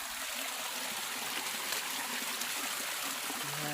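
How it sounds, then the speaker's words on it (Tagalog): Strong stream water rushes steadily and continuously, a dense, even hiss of flowing current close by with no pauses and no talk over it. "ang lakas ng tubig ngayon dito"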